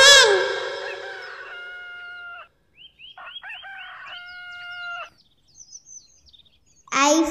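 A rooster crows loudly at the start, then a hen gives a series of drawn-out clucks and cackles, with another crow bursting in at the end; close and clear in a quiet setting.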